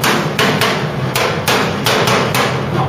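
Hammer tapping on metal during a Ford Cortina Mk3 restoration, about nine sharp, evenly spaced strikes over steady workshop background noise, close and loud.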